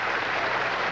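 Steady, dense applause from fans at a 1988 professional bowling tournament in New Orleans, a continuous close wash of clapping that fills the whole short moment without a break.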